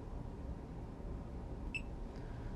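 A single short electronic alarm beep from an OCS unit running in a 12 V DC setup, a brief clear tone sounding once over steady low background hum.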